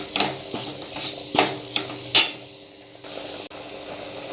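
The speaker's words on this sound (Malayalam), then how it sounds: "ഇനി മല്ലിപ്പൊടി ഒന്ന് മൂക്കുന്നത് വരെ നമുക്ക് ഇളക്കി കൊടുക്കാം." A metal spoon scrapes and taps against a pan while coriander powder masala is stirred for Kerala-style beef fry, giving a few sharp clinks over a soft background sizzle, close and fairly quiet.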